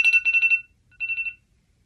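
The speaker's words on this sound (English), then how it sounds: "An alarm." An in-game alarm from Pokemon Sleep rings out as two bursts of rapid electronic beeping, the first longer and louder, followed by a shorter echoing repeat before silence.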